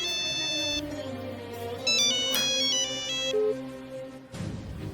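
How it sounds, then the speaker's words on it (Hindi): An electronic ringtone plays a repeating melodic pattern of bright tones, fairly loud and close, then cuts off near the end. "अरे फोन।"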